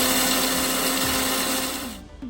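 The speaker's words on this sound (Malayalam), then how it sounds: "കുറച്ച് കടുക് നമ്മൾ മിക്സിയിലിട്ട് അരച്ചെടുക്കാം." A mixer grinder whirs as it grinds mustard seeds for a raw mango pickle, making a loud, steady, close motor drone for about two seconds before it winds down and stops.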